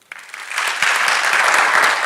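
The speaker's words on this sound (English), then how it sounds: "I'm sure that you want to give her a round of applause as well" Applause for a faculty dean at a December 2020 science graduation ceremony, starting with a few scattered claps and quickly building into steady, full clapping from the audience.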